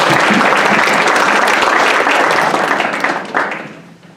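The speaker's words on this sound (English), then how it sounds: "So let's give them a round of applause too" Audience applause at a high school debate banquet for the judges, a loud, dense burst of clapping from a crowd that holds steady and then tapers off near the end.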